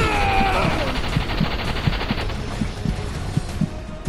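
Rhythmic gunfire in Bright Memory Infinite, a steady series of heavy shots roughly every quarter second over a humming game soundscape, with a whooshing sweep early on.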